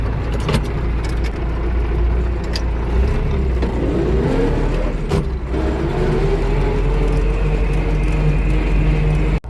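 An MTZ tractor pulls a disc harrow across a field, its loud steady diesel drone rising and falling in pitch, with occasional metallic clanks from the discs.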